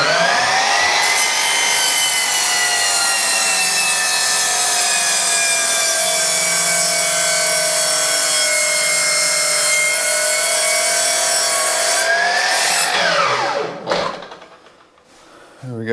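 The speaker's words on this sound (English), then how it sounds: "So I've got the bit of skirting set up on the saw." A saw cuts through a length of MDF skirting board with a loud, sustained whine and a steady tone for about twelve seconds, then winds down in a falling pitch and goes quiet.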